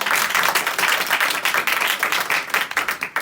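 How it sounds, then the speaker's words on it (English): An audience at a spirituality talk gives a round of applause for two of its members, a dense, loud, continuous clatter of many hands clapping close by for the whole stretch. "We'll give a round of applause for both of them"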